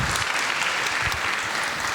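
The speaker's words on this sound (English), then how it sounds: "let's give a big round of applause to each and every one of you today." Crowd clapping at the opening ceremony of the CONIFA Women's World Football Cup 2024, a loud, dense and continuous roll of applause close by from start to finish.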